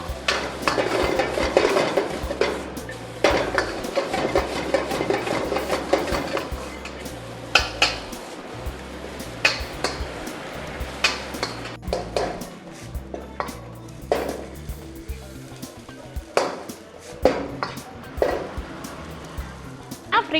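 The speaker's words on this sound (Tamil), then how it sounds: "நம்ம ரைஸை வந்து கிளற போகிறோம் பாருங்கள் இந்த மாதிரி நல்லா கிளறிட்டு" Restaurant-style vegetable fried rice tossed and stirred in a pan, with repeated clattering spatula scrapes and knocks against the metal, close and irregular, and a person speaking between strokes.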